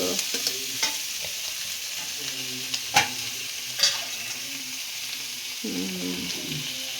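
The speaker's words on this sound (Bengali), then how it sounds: "ও বাবা, কষা কষা করে কষা কষা করে ইঁচড় করছো।" Jackfruit curry being fried and stirred in a pan, a continuous sizzle broken by sharp scraping clatters of the spoon, close and clear with no talking.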